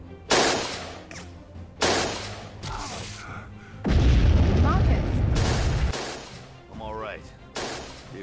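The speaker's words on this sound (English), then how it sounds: "I heard the explosion" A heavy explosion in the Battle X virtual-reality shooter booms out as a long, loud, low rumble amid gunfire-like bursts, with someone talking and reacting around it.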